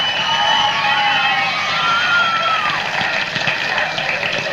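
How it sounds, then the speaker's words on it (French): A television game-show audience responds loudly to a contestant, a sustained wash of crowd noise with cheering and whoops that holds steady throughout, shouting voices riding on top. "je vous demande de l'applaudir très très très très fort"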